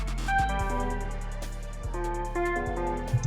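Short synth pluck notes forming a beat pattern with a steady low bass underneath, played dry without a shaper effect; clean, evenly spaced tonal plucks alone with no voices.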